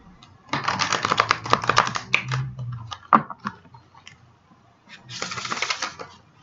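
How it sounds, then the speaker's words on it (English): A deck of tarot cards being shuffled by hand, with bursts of crisp riffling and flicking clatter, a pause, then another shuffle burst, close and clear with no talking. "So I'm just going to shuffle these cards."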